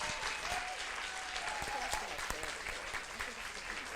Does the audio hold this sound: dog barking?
no